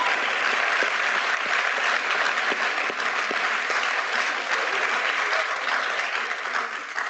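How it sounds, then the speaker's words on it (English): Loud, sustained audience applause at a university anniversary spirit festival, a dense wash of many hands clapping for the team on stage, steady throughout with no talk. "Would you please join me in another round of applause for our awesome team up here?"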